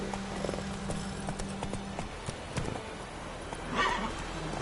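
Roach, a horse in the video game The Witcher 3, gallops with quick, rhythmic hoofbeats, and a short whinny rises near the end.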